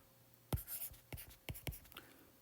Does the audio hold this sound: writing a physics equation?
yes